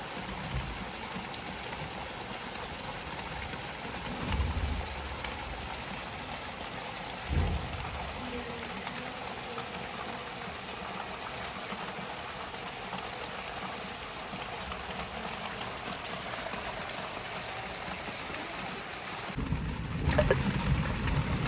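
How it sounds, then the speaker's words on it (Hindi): Heavy evening rain during a thunderstorm in a rural home in Punjab, a steady hiss of rainfall on surfaces with a few low rumbles and thuds, loud and continuous without voices. "बहुत अभी ना तेज़ गरज चमक के साथ बारिश शुरू हो गई हुई है"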